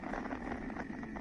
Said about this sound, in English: That's the sound of the Yeah, moon.